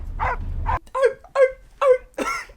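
A dog barks four times in quick succession, sharp and fairly close, after a low rumbling noise at the start, from the soundtrack of the 2015 film Sicario.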